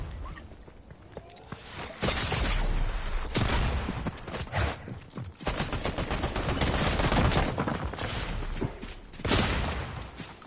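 Rapid gunfire in the video game Fortnite, loud and close, with dense bursts and rattling volleys running almost continuously and a few heavier booms, without any talk.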